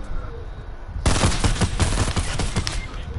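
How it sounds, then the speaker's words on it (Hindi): Dense rapid gunfire erupts in the online battle game Fortnite during a duos match, a sudden loud burst that rattles on continuously after a quieter moment, with no voices over it. "उसके पास शॉट गन है यार"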